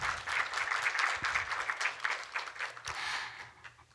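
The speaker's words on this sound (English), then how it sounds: "So let's give Nza a well round of applause." Audience applause at an artist panel on Hmong art, a steady patter of many hands clapping, fairly soft and somewhat distant, tapering off toward the end.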